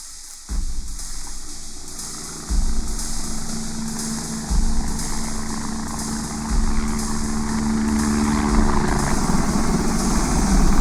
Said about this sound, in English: along comes the helicopters